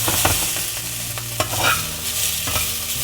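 White beans char in oil in a frying pan, a close, busy sizzle broken by sharp scrapes and clacks as they are stirred and pushed around, with no voices.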